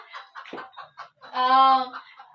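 A chicken clucks in a few short calls, then lets out one long, loud, drawn-out squawk, close by with no other sound around it.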